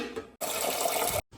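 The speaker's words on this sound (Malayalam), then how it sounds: "ഈ വെള്ളം കുളിക്കാനുള്ള വെള്ളമാണ് കേട്ടോ ഞാൻ പിടിക്കുന്നത്" Tap water running into a vessel to collect water for bathing, a close gurgling fill that starts, flows steadily for about a second, then cuts off.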